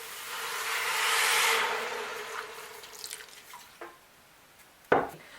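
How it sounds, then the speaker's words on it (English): Water pours steadily into a cooking pot holding cow skin and meat for boiling in a Cameroonian eru recipe, a rushing hiss that fades into a few scattered close drips and splashes. "Add water."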